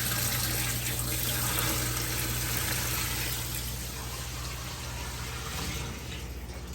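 Water poured gently from above onto a filter into a home fish tank holding new fish, a steady close splashing wash that continues throughout with a low hum underneath.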